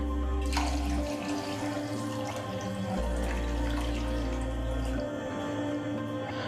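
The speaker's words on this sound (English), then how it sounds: "So let's add some water and let it soak for about 30 minutes." Water from a tap pours onto washed rice in a bowl for soaking, a soft continuous running and dripping sound at moderate distance with a low hum underneath.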